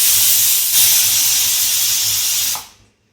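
A kitchen pressure cooker venting steam in a loud, steady hiss that holds for about two and a half seconds, then cuts off and fades quickly into silence.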